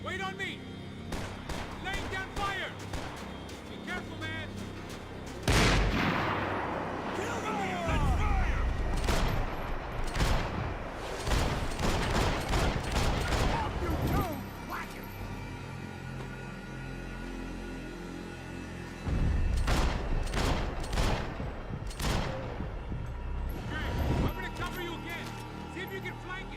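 Gunfire and explosive booms from the video game Max Payne 3, with sustained rapid shooting and heavy impacts in several loud bursts, while voices talk and shout over the combat.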